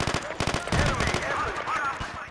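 Video game gunfire: rapid close bursts of shots, loud sharp cracks repeating in quick rhythm, then mixed with a talking voice and clatter.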